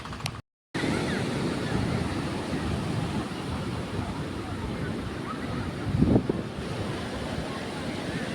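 Steady roar of sea surf and gusting wind buffeting the microphone on an open shore near Velneshwar temple, continuous and fairly loud, with a brief dropout near the start.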